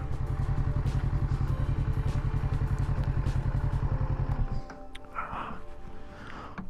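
A 2021 Kawasaki Z650 motorcycle engine runs with a steady, loud throbbing beat for about four and a half seconds, then cuts out, leaving quieter clatter and faint handling noises.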